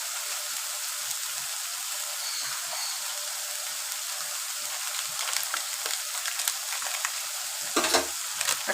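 Elephant foot yam and prawns with chilli powder frying in a pan, a steady soft sizzle with scraping stir strokes and occasional louder splutters, no voices.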